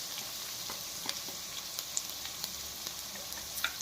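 Garlic, green chillies and a pinch of turmeric fry in a pan with a steady, soft sizzle and occasional small pops, heard alone and fairly quiet.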